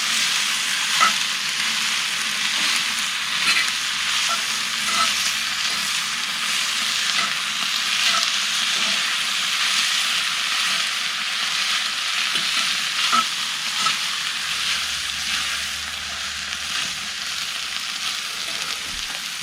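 Steady sizzling and frying of sausage with onions and peppers in sauce on a grill, with soft scraping stirs and light clicks throughout, close and continuous without voices.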